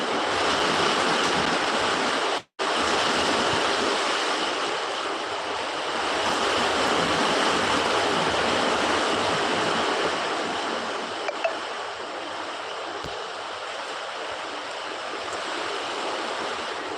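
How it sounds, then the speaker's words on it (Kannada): Heavy rain driven by strong wind makes a steady, dense roar that fills the whole stretch, loud and close, cutting out for a moment early on before resuming unbroken. "ಜೋರು ಮಳೆ ಗಾಳಿ ಮಳೆ"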